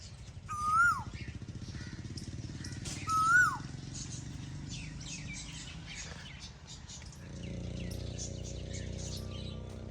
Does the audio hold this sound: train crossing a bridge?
no